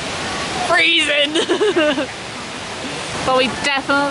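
An ice-cold waterfall in Luang Prabang rushes in a constant hiss, with people talking over it in bursts.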